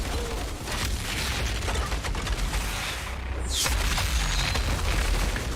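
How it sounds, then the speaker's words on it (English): Grenade explosions and battle noise in the shooter game Outriders: a dense, continuous roar of booms and bursts that stays steady and loud throughout, with no talking. "Someone's throwing grenades."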